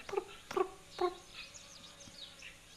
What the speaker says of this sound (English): Often we listen for these alarm calls of birds.